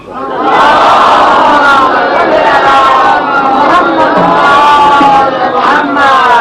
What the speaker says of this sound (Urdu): بلند ترین صلوات بھیجیں۔